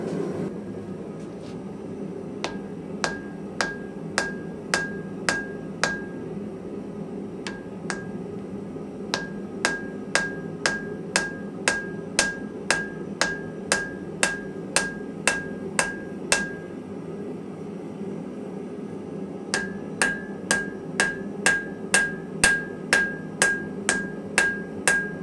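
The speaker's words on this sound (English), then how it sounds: "soon we'll get it out, and we'll see how it behaves under the hammer" A wootz steel billet is hammer forged, with sharp ringing hammer strikes in steady rhythmic runs separated by brief pauses, close and clear over a low background hum.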